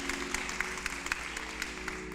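Applause from a crowd at a voter registration rally in Louisville, Kentucky, a steady wash of clapping with scattered sharper claps, held at a moderate level under a low background hum.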